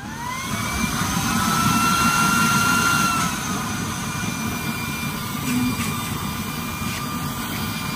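A used-oil stove burner with a newly designed 24-hole nozzle pattern roars steadily during a fire test, a loud continuous broadband rush with a faint high whine, alone with no voices.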